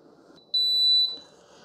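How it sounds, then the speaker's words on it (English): An AEVO milk frother with a detachable pitcher gives a single clear, high electronic beep, close and fairly loud, lasting about half a second in a quiet kitchen as it sets up cold frothing. "Okay, so you get 3 beeps,"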